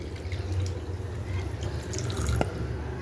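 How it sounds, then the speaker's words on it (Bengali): Water pours into a pot of rice fried for chicken pulao, five cups over three cups of rice, a steady close splashing and gurgling rush that runs the whole time with no talk. "এখন আমি 3 কাপ চালের জন্য 5 কাপ পানি দিয়ে দিচ্ছি।"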